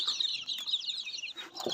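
A flock of native chicks and hens chirp and cluck continuously in a close, busy chorus, with a faint rustle near the end.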